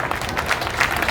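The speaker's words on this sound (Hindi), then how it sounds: "तालियां कमजोर हैं आपकी" Audience applause at a Hindi comedy poetry event (hasya kavi sammelan), a steady wash of clapping from a crowd that stays fairly even throughout this short burst, with no voices rising above it.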